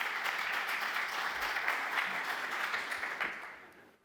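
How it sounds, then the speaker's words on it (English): A conference audience applauds the next speaker at a talk on haptics, XR and robotics, with dense, even clapping from many hands that holds steady and then fades out near the end. "Please join me in giving a round of applause for our next speaker"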